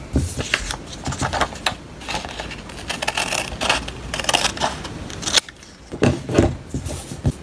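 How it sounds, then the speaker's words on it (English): Scissors cut through paper along a drawn line in a series of close, crisp snips and rustles, pausing briefly before a few more cuts. "Now let's cut along this line."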